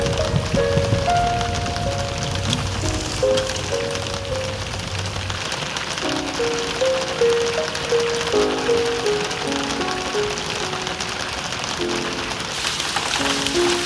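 Rain falling in a car sound design demo, a continuous patter of drops over a surface with tonal musical notes layered on top throughout.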